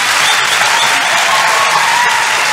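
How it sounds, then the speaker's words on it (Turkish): Loud, dense studio audience applause on a Turkish entertainment show, steady close clapping throughout with a few scattered cheers. "Bir alkışlayın ayol."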